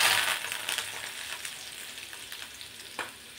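Garlic and finely chopped coriander sizzle in hot oil in a pan while cooking a peanut amti curry, a bright crackling hiss with occasional stirring clinks, loudest at first and settling to a gentler fry.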